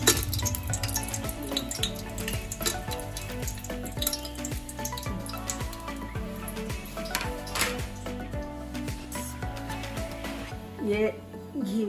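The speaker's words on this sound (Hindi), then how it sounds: "तो घी में इसको फ्राई कर रही हूँ" Cinnamon frying in ghee for carrot halwa in a home kitchen, a soft sizzle and light clinking of utensils running beneath steady talking and background music.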